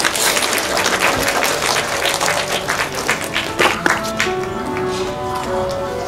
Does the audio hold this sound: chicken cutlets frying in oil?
no